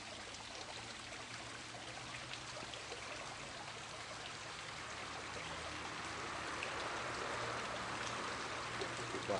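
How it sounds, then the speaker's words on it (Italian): Stream water flows steadily over rocks with a continuous broadband rush that grows slightly louder toward the end, close and alone. "È più di qua secondo me, e c'è più acqua. E corre molto di più."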